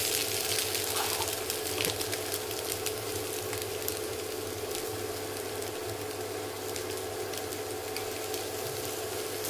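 Rice with a little biryani masala sautéing in a pan, a steady soft sizzle with faint stirring, continuous and even, no voices.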